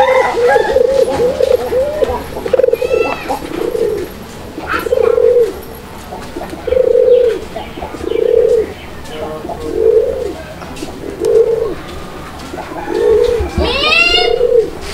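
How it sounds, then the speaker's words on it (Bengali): A pair of fancy pigeons, a male and a female, coo in a steady series of loud, rounded calls roughly one per second, with faint chirps from other birds in the background. "আপনারা এতক্ষণ যে কবুতরটির ডাক শুনলেন, একদম দুর্দান্ত ডাকের একটা কবুতর।"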